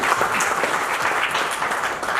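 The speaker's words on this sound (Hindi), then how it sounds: "इनके लिए जोरदार तालियां बजाएं।" A burst of dense applause from a large audience, sustained and fairly loud for a couple of seconds.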